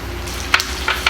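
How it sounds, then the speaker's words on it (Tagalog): Bagoong shrimp paste sautéing with pork in a pan for Bicol express, a close steady sizzle broken by three sharp scraping stir strokes. "igisa lang natin yung bagoong sa pork"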